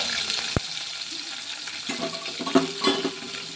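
Chopped garlic and ginger sauté in sesame oil in a kadai for a gooseberry pickle, a soft low sizzle with occasional clinks and scrapes of a stirring spoon, fairly quiet.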